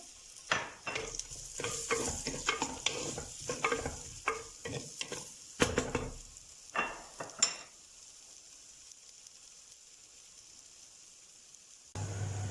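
Onions are stirred into hot olive oil in a clay güveç pot, giving a series of sharp utensil scrapes and clinks over a light sizzle. The stirring stops partway through and the soft frying carries on alone.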